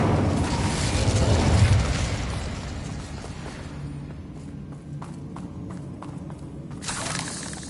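An Incendio fire spell in Hogwarts Legacy erupts as a loud, booming burst of flame that swells over busy game noise and slowly dies away, followed by scattered small crackles and pops.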